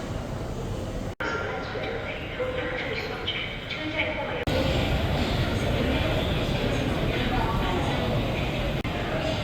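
Exit ambience at Taiziwan station on Shenzhen Metro Line 12 brings a steady rumbling roar of trains and underground machinery, with a voice talking over it throughout.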